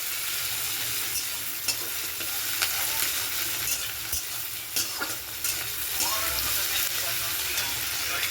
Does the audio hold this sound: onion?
yes